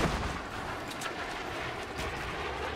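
Easter egg launcher rockets in Fortnite go off as a dense, continuous rumble of blasts and booming impacts, loud and close, with no voices over it.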